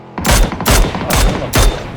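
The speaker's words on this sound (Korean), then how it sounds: "이쪽에는 지금 총소리가 나가지고" Four loud bursts of rapid video game gunfire, roughly half a second apart, each a short crackling volley with echoing tails and no voices.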